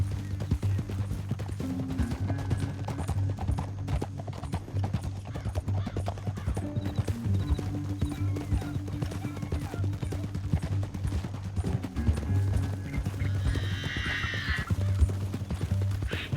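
Horses in Red Dead Redemption 2 run with steady clip-clop hoofbeats and a brief whinny near the end, all under a low musical score at moderate volume.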